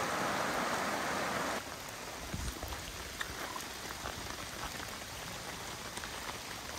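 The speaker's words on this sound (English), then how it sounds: "It is pouring." Heavy rain pours in a dense, continuous hiss, drumming on a Gazelle T4 Plus hub tent nearby at a flooded campsite, with scattered louder drops tapping throughout.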